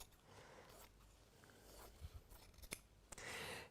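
Fabric scissors cut through quilting fabric in a series of soft, close snipping and rasping strokes. The sound is quiet, with no talk over it.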